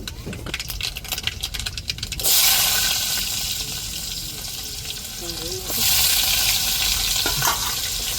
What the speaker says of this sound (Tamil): இப்போ நம்ம இறக்கி வச்சுட்டு தாளிச்சிருவோங்க கடுகும் சேர்த்துக்கிடுவோம்